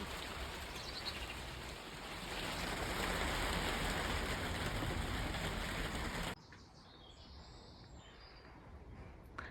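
Rain patters steadily on an allotment shed, a dense hiss that swells in the middle and then cuts suddenly to a quieter, sparser drip.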